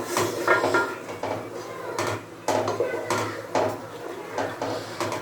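Chicken and paste being stirred in a cooking pan: a run of scraping, clinking utensil strikes against the metal at an uneven pace, close and moderately loud, with faint background noise.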